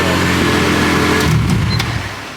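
An EM1 car engine starts for the first time and revs, a loud, steady mechanical roar with rising and falling pitch throughout.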